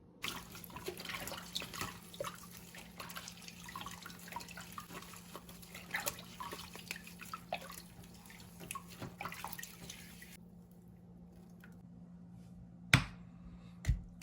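Sealed canning jars of summer squash pickles washed under a running tap, a faint steady flow of water with small drips and clinks, then the tap shuts off and a couple of sharper knocks follow.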